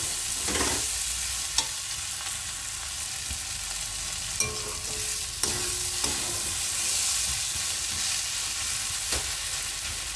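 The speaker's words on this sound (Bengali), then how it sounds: "এবার সব মশলাগুলো খুব ভালোভাবে মিশিয়ে নিতে হবে" Spices with coriander powder and Kashmiri red chili powder being stirred in a pan for prawn-stuffed potol dorma, a soft sizzle under scraping strokes with a few sharp clicks of the spoon on the pan.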